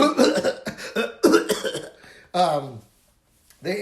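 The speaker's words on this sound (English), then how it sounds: "Those were joke coughs, not corona coughs." A man lets out a series of exaggerated, staged coughs, several quick bursts close to the mic, with brief pauses between them.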